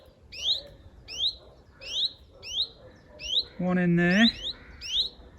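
Chiffchaff fledglings give repeated high, thin calls at a steady rhythm, about one per second, close by, while someone briefly speaks over them partway through.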